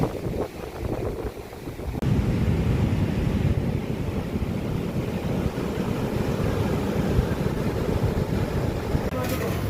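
Sea waves roll in at Golden Sea Beach in Puri, a broad continuous surf roar mixed with wind buffeting the microphone, steady and loud after a brief quieter start.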